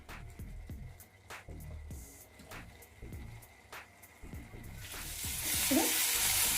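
Thick kadai vegetable masala bubbles and sizzles in oil, with repeated spoon or spatula scrapes in a loose rhythm, close and moderately loud, rising to stronger hissing near the end.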